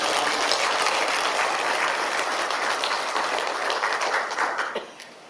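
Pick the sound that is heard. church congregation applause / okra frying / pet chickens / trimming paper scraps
church congregation applause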